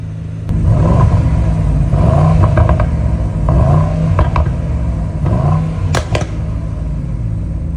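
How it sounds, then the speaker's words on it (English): A car engine idling and revving in a home garage holding an AMG, an Escalade, a Corvette and a GMC; a loud, close, steady rumble with several short throttle blips rising and falling. "We are gonna rev all the cars"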